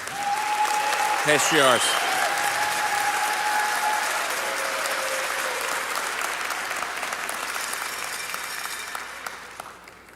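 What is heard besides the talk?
audience applause at commencement ceremony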